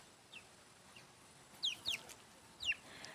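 Chicks from a backyard flock near an outdoor enclosure give a few high, thin peeps, a handful of short calls spaced across a quiet stretch with faint background hiss.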